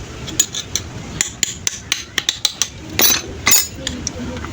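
A screwdriver is tapped to chisel a rust-stuck part from a Fujidenzo washing machine, producing a close series of sharp metallic knocks and clinks, followed by a couple of longer scraping strokes.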